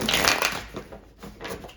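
Tarot cards riffle and slide in quick rustling bursts, a close shuffling texture that fades and returns.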